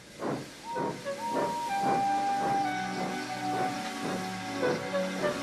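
Henry the steam locomotive labors low on steam, with a steady hiss of steam and rhythmic chuffing bursts under a faint whistle-like tone, continuous and fairly close.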